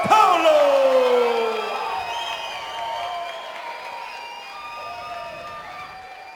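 A large crowd cheers and whoops at a live fight event at the Borgata after a first-round TKO, loud at first with some high shouts, then settling into a steadier roar that keeps going through the clip.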